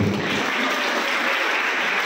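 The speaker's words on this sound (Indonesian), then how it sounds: "Tepuk tangan buat film Nurul Quran." Audience applauding a film at a motivational seminar held at a pesantren in Bogor, a dense, steady wash of clapping that fills the whole stretch at close range with no talk over it.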